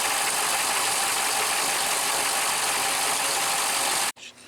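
Boat's starboard engine running on a Take 5 vessel fitted with new manifolds and risers, a loud steady broadband drone with no talk, cutting off abruptly near the end.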